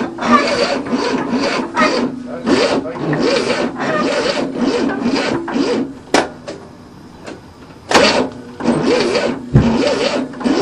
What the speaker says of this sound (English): We'll stick a screwdriver in it. Go. Okay, choke open.